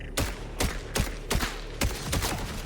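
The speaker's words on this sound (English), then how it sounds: "Let's switch to an assault rifle here. It is a Jacobs assault rifle" A Jacobs assault rifle firing in the video game Borderlands 4, six sharp evenly spaced shots with rapid decaying tails, loud and close, no talking.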